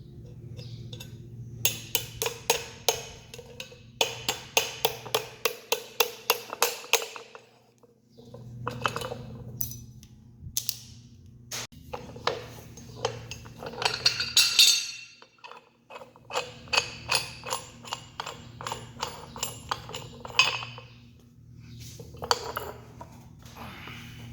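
Metal clinks and ticks come from a cotter pin and castle nut being worked off a tractor wheel's through bolt, in short rapid bursts with pauses, close by.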